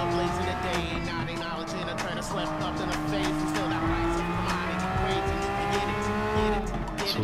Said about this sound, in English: I had a little tire squeal going in and out of that.